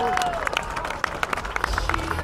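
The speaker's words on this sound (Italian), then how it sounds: "fatele un grande applauso." An Italian audience at an outdoor afternoon event claps for a guest walking onto the stage, a dense patter of hands with a few sharper claps standing out, while a voice speaks over it.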